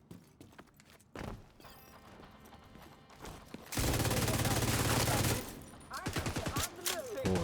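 Gunfire in The Division 2: scattered shots give way to a loud sustained burst of automatic fire, followed by rapid shorter bursts, with game sound effects around them.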